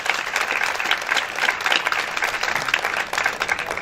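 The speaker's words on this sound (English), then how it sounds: "That's a round of applause on that." An audience at a domestic violence event gives a round of applause, dense and continuous clapping that fills the whole stretch at steady loudness, with no one speaking over it.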